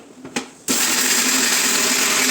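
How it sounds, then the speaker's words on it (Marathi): A mixer grinder whirs into a loud, steady grind of flax seeds and melon seeds, starting abruptly after a brief quiet moment with a few soft knocks and running continuously to the end. "हे सर्व आपण मिक्सरमध्ये बारीक करून घेणार आहोत"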